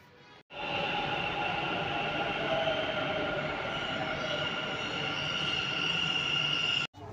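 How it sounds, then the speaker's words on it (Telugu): A Bangalore metro train rumbles steadily with a sustained mechanical whine and hum, loud and close, continuing unbroken for several seconds. "మెట్రో ట్రైన్ కోసం వెయిట్ చేస్తున్నాను అనమాట"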